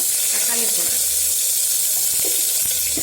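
Ingredients fry in a pan for a Tamil banana flower kola urundai kuzhambu, giving a steady close hiss of sizzling oil with faint crackles.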